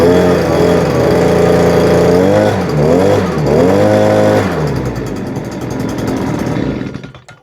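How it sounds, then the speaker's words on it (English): A handheld petrol leaf blower runs loud and close, its small two-stroke engine buzzing with a few rises and dips in pitch, then winding down at the end. "Let's start with a handheld blower"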